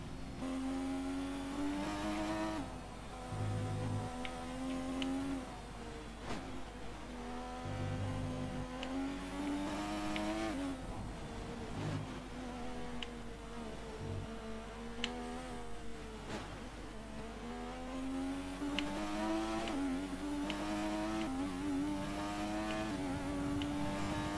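F1 car engines racing in the F1 2020 game, a continuous loud high-pitched whine that rises and falls with repeated upshifts and downshifts through corners, filling the whole stretch without talk.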